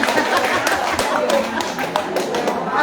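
Audience in a Batak HKBP church in Rawamangun clapping hands at a women's group music service, a dense, steady patter of many hands with sharper individual claps, close and continuous throughout.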